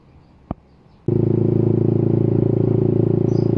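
Yamaha MX King motorcycle with a replaced front shock setup starts riding after a single click, its engine then running loud and steady at close range with a fast, even pulsing idle-to-cruise throb.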